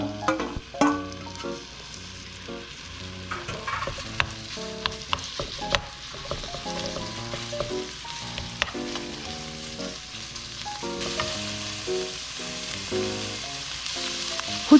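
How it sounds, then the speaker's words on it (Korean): Meat seasoned with garlic and cooking wine sizzles in perilla oil in a pan, a dense continuous frying crackle with intermittent scraping and stirring, close and loud throughout. "마늘과 맛술로만 양념한 고기를 들기름에 볶아줍니다"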